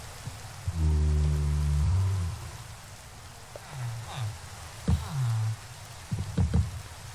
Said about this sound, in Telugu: అండ్ టైంకి వర్షం పడుతుంది